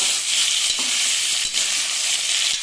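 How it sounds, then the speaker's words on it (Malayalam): Potato pieces frying in a pan while being stirred, a steady close sizzle with a few soft knocks of the spoon at intervals, no talk. "ഉരുളക്കിഴങ്ങ് കഷ്ണങ്ങളാക്കിയിട്ട് വെച്ചിട്ടുണ്ടല്ലോ ഇട്ട് കൊടുക്കാം ഇട്ട് കൊടുത്തിട്ട് ആദ്യം ഒന്ന് നന്നായിട്ട് മിക്സ് ചെയ്ത് കൊടുക്കുക"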